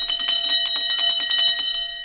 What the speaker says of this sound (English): We've got bells on every station.